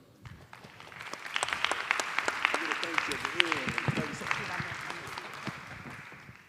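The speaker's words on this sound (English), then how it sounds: "give a round of applause to our candidates and moderator" Applause from a town hall audience for the city council candidates and moderator, scattered claps building into a modest round that fades, with voices talking underneath.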